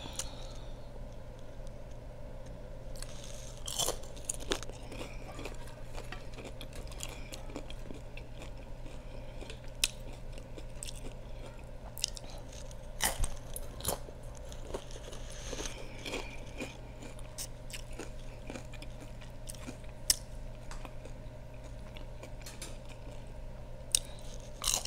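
Close, crisp crunching and chewing of Doritos and Tostitos tortilla chips in a quiet room, with irregular sharp bites and softer chewing continuing throughout without talking.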